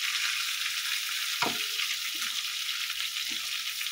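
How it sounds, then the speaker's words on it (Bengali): Hilsa fish pieces frying in oil in a pan give a steady, close hiss of sizzling throughout, with a couple of brief clinks or stirring knocks, and no talking. "মাছগুলো ভাজা হোক"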